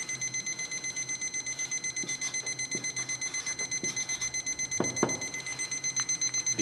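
Thermometer temperature alarm beeping steadily in a rapid repeating pattern throughout an alcohol stove (spirit burner) performance test, with a few faint clicks and knocks underneath.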